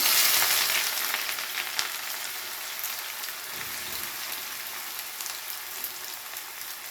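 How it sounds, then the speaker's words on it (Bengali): Onions sizzle and crackle steadily in hot mustard oil in a kadai, a loud hiss at first that settles to a constant frying noise, with no voices. "তো তেলটা গরম হয়ে গেছে, এবারে তেলের মধ্যে দিয়ে দেবো পেঁয়াজগুলো"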